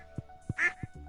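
A duck in the Stardew Valley video game quacks several times in a quick, short series, fairly close and clear, with no talk over it.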